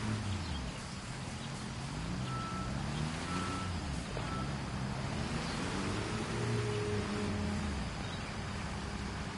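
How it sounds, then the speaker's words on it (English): A pump truck in the Construction Simulator game reverses with a steady run of evenly spaced beeps over a low diesel engine rumble. "Go ahead and jump in that pump truck"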